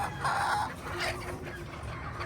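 Parekoy bloodline Althea White chickens cluck and crow in a farm pen, several birds close by with overlapping clucks and a rooster's crow, no talking.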